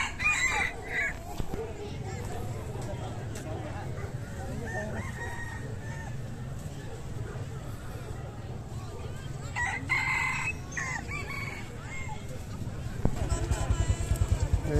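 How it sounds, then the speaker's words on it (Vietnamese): At a northwestern mountain market selling wild jungle fowl, several roosters crow in turn, some close and loud, others farther off. Their calls rise over a steady murmur of market crowd and people talking. "Thay nhau gáy."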